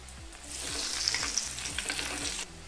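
Whole garam masala sizzling in a little white oil and butter in a hot kadai, a bright crackling fry with rhythmic stirring scrapes throughout, close and steady before cutting off.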